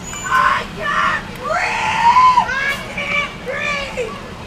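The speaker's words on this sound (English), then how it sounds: "Somebody's screaming." A person screams amid a street riot with tear gas in the air, a rising, strained cry among shouting and crowd voices, loud and fairly close.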